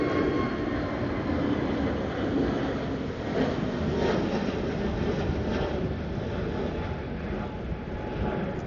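An Azores Airlines airliner departing Ponta Delgada airport gives off a broad, steady roar heard from a distance, holding at an even level throughout.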